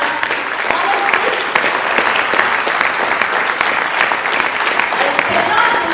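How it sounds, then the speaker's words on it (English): A conference audience at a medical committee Q&A session at IIDSC 2022 gives sustained, dense applause that stays loud and even throughout. "give them a big round of applause for what they have done for us"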